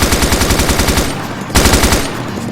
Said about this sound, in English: Aim down the sights, open fire on the targets.